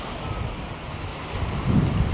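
Rough sea surf rolling onto Kumköy beach near Side, a steady wash of waves mixed with heavy wind buffeting the microphone, with a louder surge of water near the end.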